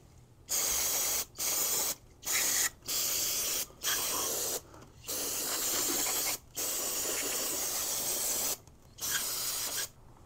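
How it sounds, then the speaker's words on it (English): A can of carburetor cleaner sprays onto a Quadrajet carburetor from a K5 in repeated hissing bursts, about ten in all, each lasting roughly one to two seconds, with brief silent gaps between them. "Let's do some carb cleaning. Clean this thing up a little bit."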